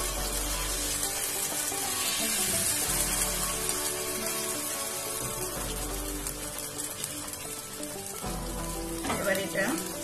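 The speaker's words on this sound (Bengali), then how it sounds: "এবার এটা ভাজা হওয়ার জন্য কিছুক্ষণ অপেক্ষা করব।" Patishapta batter for kheer-filled crepes frying in a pan, giving a steady, continuous sizzling hiss that holds evenly throughout at moderate level.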